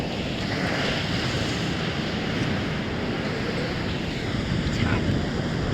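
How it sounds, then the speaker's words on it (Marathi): Large ocean waves break along the sandy shore at Harihareshwar, a dense continuous wash of surf mixed with wind buffeting, steady and fairly close, with a voice speaking over it. "लाट बघा केवढी मोठी"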